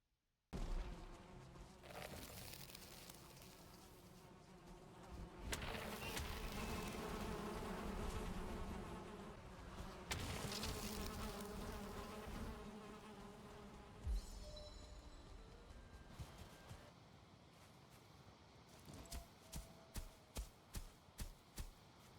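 Dense insect buzzing from a bee swarm in the Viking survival game Valheim, a loud continuous drone lasting throughout, with sharp rhythmic hits and impacts near the end as combat breaks out.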